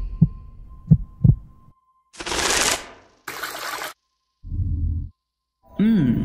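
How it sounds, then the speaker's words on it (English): Three deep heartbeat thumps in a slow-motion watch commercial come one after another, then give way to loud bursts of whooshing noise and low hums, separated by short silences. "Here starts the slow motion with a heartbeat."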